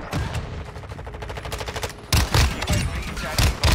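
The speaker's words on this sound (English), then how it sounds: "No, it's a shotgun" Shotgun fire in a video game crackles in a rapid rattling stream, then gives way to several heavier, louder booming blasts close up.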